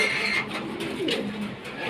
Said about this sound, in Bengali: এখানে অরিজিনাল রেসার কবুতর, মাশাআল্লাহ ভেরি বিগ সাইজ